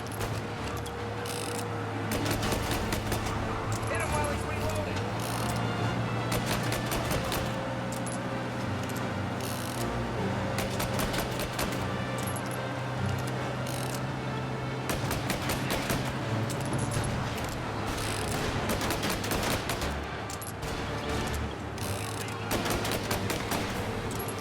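Rapid bursts of gunfire in Mafia: Definitive Edition, dense clusters of sharp reports repeating throughout over a steady droning engine-like hum, loud and continuous for the whole stretch.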